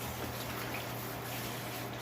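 Water runs steadily with a broad rushing, splashing hiss, like a tap filling and rinsing a container, continuous and fairly close.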